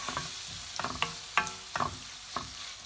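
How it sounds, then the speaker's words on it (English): Masala for methi chicken cooks in oil over a medium-low flame, giving a steady close sizzle broken by several sharp scraping stirs of a spoon against the pan. "I'm just gonna cook all this so that it gets cooked nicely and the oil from the masala oozes out."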